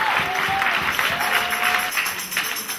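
Church congregation clapping together during a worship service, a fairly soft, steady patter of many hands lasting a few seconds with faint voices mixed in.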